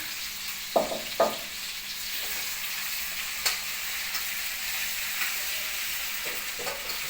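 Pork stir-frying in a pan, a continuous frying sizzle broken by a few sharp scrapes and knocks of the utensil, close by, with no talk.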